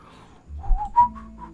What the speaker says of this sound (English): I probably should not whistle into the microphone